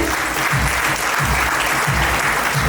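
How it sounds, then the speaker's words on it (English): A crowd claps steadily and loudly at a teachers' awards ceremony, a dense wash of applause filling the room without pause. "Can we hear a big round of applause for them?"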